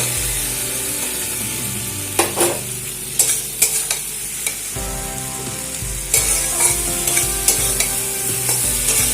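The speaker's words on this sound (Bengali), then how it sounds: "আবারও ভেন্ডি আলুর সঙ্গে মশলাটাকে আবারও 2 মিনিট মতন কষিয়ে নেব" Okra and potatoes are stir-fried with a spice masala in a wok: a steady sizzle runs throughout, broken by repeated scraping stirs and clanks of the spatula against the pan.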